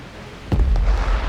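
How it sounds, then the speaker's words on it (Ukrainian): A loud, sudden explosion of a Russian tank booms partway through, followed by a deep rumbling roar that lingers to the end. "Потужний вибух."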